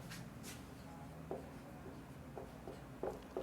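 A pen writes out a question on paper in soft, close scratching strokes with a few brief louder taps, steady and quiet with no talk.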